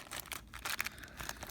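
A plastic bag holding small store-bought knickknacks is handled close by, giving bursts of dry crinkling and rustling with uneven rhythm and no talk.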